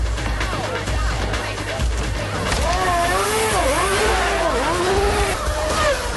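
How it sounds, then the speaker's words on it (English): Car racing at high speed through the streets of Chicago, its loud, constant engine roar rising and falling in pitch as it revs, with a steady rush of road noise throughout. "Tonto races after Jimmy through the streets of Chicago at nearly 200 miles per hour"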